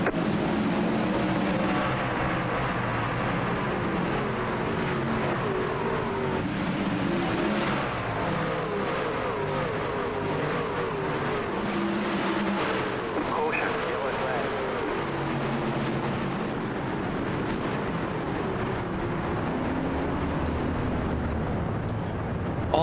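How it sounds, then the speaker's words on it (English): Race truck engines drone and rev on the Bristol Motor Speedway track in a truck-series racing video game, a continuous engine roar running beneath steady commentary. "I think it's about time that we crank these trucks up here on this restart"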